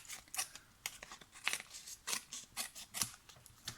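Scissors snip paper craft pieces for a Stampin' Up! card project, a quick run of crisp, close cuts coming in short irregular bursts, quiet and without speech.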